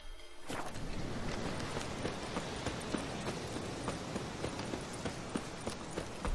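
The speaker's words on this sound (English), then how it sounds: "Horse got stuck." Horse hooves in the video game The Witcher 3: Wild Hunt, a steady clip-clop of galloping over a continuous whooshing wind-like background, moderately loud.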